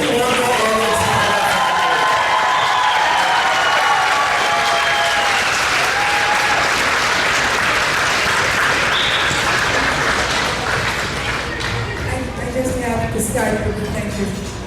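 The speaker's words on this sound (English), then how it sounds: "Let's give a round of applause again for the guests on Willy Wonka and the Chocolate Factory" Loud, sustained audience applause with scattered cheers fills a school auditorium after a student production of Willy Wonka Jr., steady throughout and tapering slightly near the end, with some crowd murmur and chatter mixed in.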